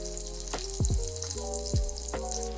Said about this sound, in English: Place your salmon skin side down and lightly push down with a spatula to stop it from scrunching up